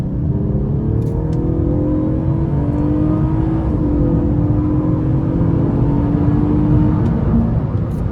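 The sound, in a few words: V6 car engine and exhaust accelerating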